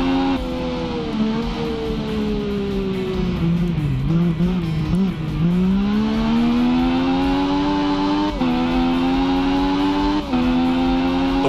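A motorcycle engine races in the video game RIDE, a loud, continuous whine that dips and climbs with shifts and revs, sustained throughout with no talking.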